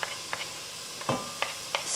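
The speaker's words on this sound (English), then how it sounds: "Let me stir this around." Carrots softening in a pot for a Mediterranean red lentil soup get stirred in a few short, scraping strokes spaced through the moment, each with a soft sizzle behind it, heard close and alone.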